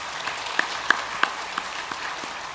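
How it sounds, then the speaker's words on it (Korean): A church congregation claps to welcome new member families during a Sunday service, a soft, steady patter with a few sharper individual claps standing out. "예, 박수로 환영하며 축복하겠습니다"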